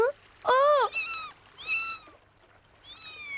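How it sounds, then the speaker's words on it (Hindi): A small kitten meowing in a cartoon scene, a few high, wavering mews in a row, the first loudest and the rest softer and rising, with short pauses between. "बेचारी छोटी सी बिल्ली"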